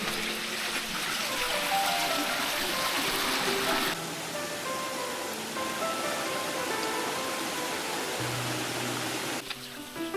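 Steady babbling stream rushing along the Yangming creek trail on Section 2 of the Taipei Grand Trail, a continuous broadband wash of flowing water close by, with no talking.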